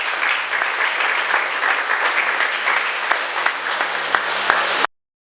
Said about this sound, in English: With a round of applause, we welcome Professor Awomana Asiedu